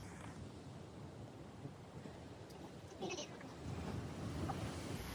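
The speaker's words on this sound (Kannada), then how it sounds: "ಈ ಅಲೆಗಳು ನೋಡ್ತಾರಲ್ಲ ಏನೋ ಒಂಥರ ಖುಷಿ" Sea waves break on the shore as a continuous broadband wash that swells louder toward the end, with wind buffeting the microphone and faint voices in the background.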